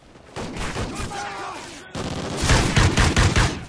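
Rifle gunfire in a video game: a dense string of loud shots in two bursts, the second louder and more rapid, filling the whole stretch with little pause.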